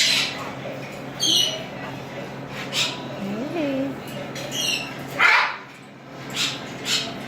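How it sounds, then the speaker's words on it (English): A cockatoo gives a few short, sharp squawks over a steady background, while people talk warmly nearby throughout. "That's a cockatoo, happy, affectionate."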